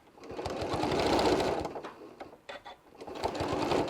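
Sewing machine stitching fabric for an adult bib, a close, loud rapid mechanical whir in two bursts with a brief pause and a few clicks between them, no talking.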